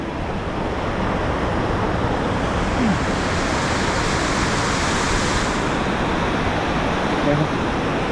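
Kynrem Falls in Meghalaya pouring down with a constant dense rush of falling water and spray, loud and close, steady throughout with no clear breaks.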